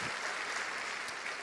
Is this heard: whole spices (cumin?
no